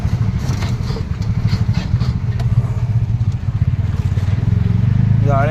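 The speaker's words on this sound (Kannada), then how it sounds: "ನೋಡ್ರಿ ಫ್ರೆಂಡ್ಸ್, ಹೊಸ ಗಾಡಿ ತಂದ್ಕೊಂಡಿದ್ದಾರೆ ಅವರು. ಇಲ್ಲಿ ಸ್ಪೀಡ್ ಬ್ರೇಕರ್ ಭಾಳ ದೊಡ್ಡದೈತೆ" A new vehicle's engine idles and rumbles as it eases slowly over a large speed breaker, a steady close mid-pitched engine note with a brief rise at the end, while someone talks over it.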